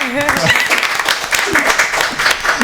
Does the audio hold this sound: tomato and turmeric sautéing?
no